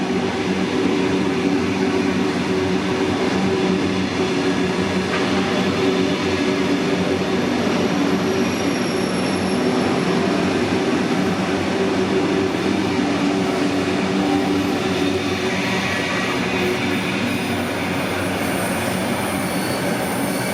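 Sydney Trains T-set, an off-service double-deck electric commuter train, runs through Olympic Park station without stopping, a loud steady roar of wheels and motors with squealing wheels throughout, no voices.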